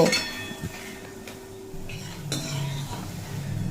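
Potato snack frying in a pan is stirred gently, with soft clinks and scrapes of a spatula against the pan over a low, steady sizzle, close and fairly quiet.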